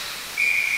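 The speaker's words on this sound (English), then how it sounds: "that'll lead to a whistle" A referee's whistle stops play in an ice hockey scrimmage, one steady shrill blast starting partway through and held to the end, loud over the hissing arena noise.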